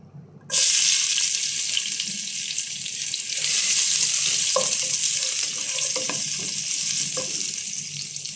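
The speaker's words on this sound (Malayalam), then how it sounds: "ഇനി അതിലേക്ക് നമുക്ക് വെളുത്തുള്ളി ആഡ് ചെയ്യാം" Garlic is dropped into hot olive oil in a pan that just fried chilies, and a loud sizzle bursts in at once. The hiss holds steady and close, with small crackles and stirring knocks.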